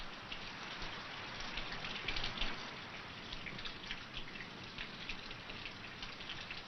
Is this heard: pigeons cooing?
no